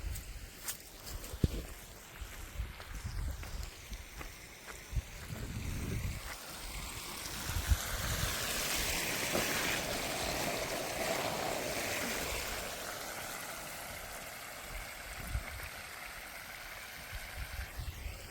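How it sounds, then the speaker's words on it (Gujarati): A small water pump motor runs continuously while water pours into an irrigation channel, making a steady rushing wash with faint rustling and scattered knocks on top. "નાની મોટરને શરૂ કરી દીધી છે"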